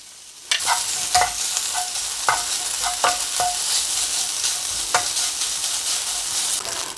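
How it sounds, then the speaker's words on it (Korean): Mashed tofu is stir-fried in a dry, hot pan without oil, giving a steady bright sizzle with sharp spatula scrapes and taps at irregular intervals, close and clear with no speech. "요 으깬 두부를 좀 고슬고슬 노릇하게 좀 수분을 날려가면서 볶아주세요"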